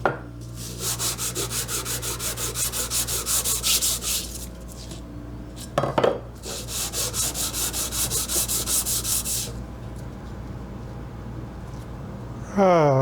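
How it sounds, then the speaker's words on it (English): Deburring a metal part for a Briggs & Stratton buckboard flyer build: rapid rhythmic rasping and rubbing strokes in two long bursts, close and steady, with a brief clunk between them and a pause near the end. "Let me deburr this, we'll try that again."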